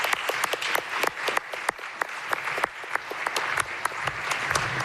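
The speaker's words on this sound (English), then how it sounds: "we're going to go ahead and give them a round of applause too for their hard work and their generosity" At an annual student awards ceremony, an audience applauds scholarship recipients with steady, moderately loud clapping. Individual crisp hand claps stand out within the crowd's ongoing patter.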